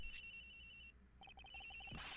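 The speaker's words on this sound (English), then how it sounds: "The ringing's coming from in here, sir." A cell phone rings from inside a locker in the Ace Attorney Investigations video game, sounding as a quiet electronic ringtone of rapid repeating beeps with a short gap partway through.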